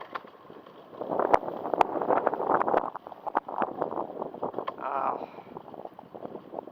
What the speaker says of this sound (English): The wind is blowing up against me.